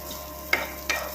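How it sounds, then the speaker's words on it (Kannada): Grated fresh coconut fries in a pan with ghee for a Ganesha Chaturthi modak recipe, a soft, faint sizzle punctuated by two quick scraping stirs of a spatula. "ಸ್ವಲ್ಪ ಕಾಯಿ ತುರಿ ಹಸಿ ಸ್ಮೆಲ್ಲು ಹೋಗೋ ತನಕ ಫ್ರೈ ಮಾಡ್ಕೋಬೇಕು."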